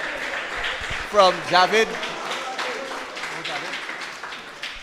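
Audience applause fills a sports club awards presentation, a steady broadband clatter of clapping that runs throughout while someone speaks over it into a microphone.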